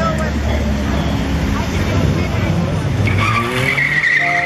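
Diesel race car pulling away hard at Killarney, a loud continuous engine roar with tire noise and a rising pitch toward the end, with a voice talking over it.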